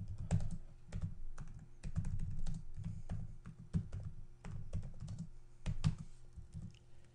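Keys clatter on a computer keyboard as a router command is entered, with quick irregular bursts of clicks and taps, close and clear, with brief pauses between runs of keystrokes and no talking.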